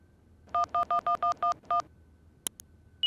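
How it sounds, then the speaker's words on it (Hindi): Seven short, evenly spaced touch-tone beeps from a phone keypad being dialed, followed by a couple of faint clicks and a brief higher tone. "फोन लगा के देखते हैं।"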